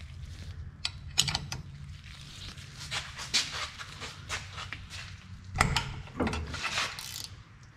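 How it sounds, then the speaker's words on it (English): A ratchet wrench working on differential bolts during a rear differential service, quick clicking pawl bursts and metallic clanks in irregular clusters, fairly close and moderate in level. "And last bolt."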